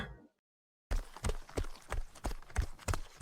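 Horse hooves clip-clop in a steady walking rhythm as a man arrives on horseback in a village, crisp and close, starting after a brief silence.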